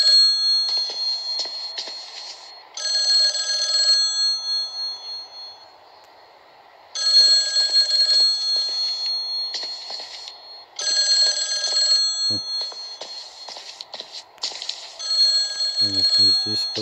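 A telephone rings in the horror video game Mental Hospital 4, sounding as loud, close, shrill bursts of electronic ringing separated by short silences, with a few brief sounds of a voice near the end.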